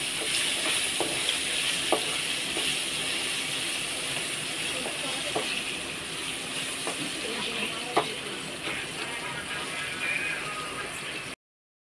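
Puffed rice tempering fries in hot oil, giving a steady, dense sizzle and hiss with occasional light crackles and stirring clicks, close and continuous throughout.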